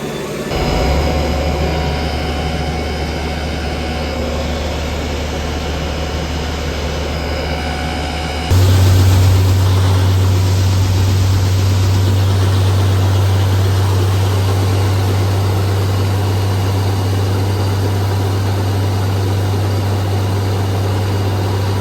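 A motor-driven fan runs steadily beside a pile of spilled beans on the ground, a constant loud low hum with machine drone that steps up louder and deeper partway through, then holds unbroken.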